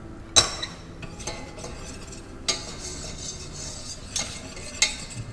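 A roux of flour fried in fat cooks in a pan and is worked with a utensil. Sharp spoon clinks against the pan come at scattered moments over a soft, low sizzle, close and fairly quiet, with no talking.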